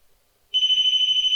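Ghost-hunting gear at the Fort Gratiot Lighthouse gives a sudden piercing electronic tone, steady and close, starting abruptly after a moment of near silence.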